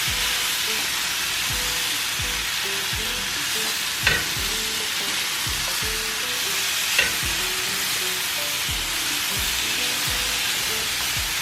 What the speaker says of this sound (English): mix the onions in with your potatoes. Allow the onions to start cooking.